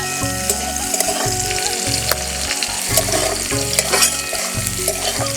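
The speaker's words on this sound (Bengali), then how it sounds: "বিনস দেওয়ার পর আরও একটু ভেজে নেব।" Green beans frying in a pan alongside cashews, raisins and carrots for wedding-style fried rice, giving a steady close sizzle with occasional stirring scrapes, while background music plays throughout.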